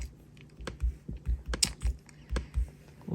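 Typing on a computer keyboard, with sharp, fairly quiet key clicks landing in an uneven rhythm and a few louder strikes, and no talking.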